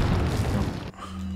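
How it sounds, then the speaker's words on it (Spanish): Explosion in the video game Resident Evil 4, a single heavy booming blast that rumbles for most of a second before cutting to quieter game ambience with a low steady hum. "a ver si la explosión pilla al de al lado"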